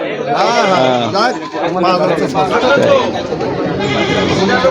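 Goats bleat repeatedly at the crowded Rupdia goat market in Jashore, their cries overlapping with steady nearby conversation and crowd bustle.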